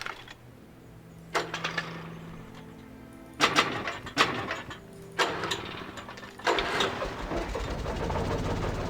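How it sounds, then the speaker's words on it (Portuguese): Old generator in Alan Wake Remastered, connected to a power cable, sputtering to life in several separate bursts of rattling engine noise before settling into a continuous chugging run. "An old generator had been connected to the power cable."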